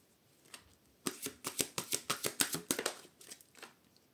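A deck of tarot cards is riffled and shuffled close by, first a couple of soft flicks, then a quick run of about a dozen crisp snapping riffles before it tapers to a few light taps.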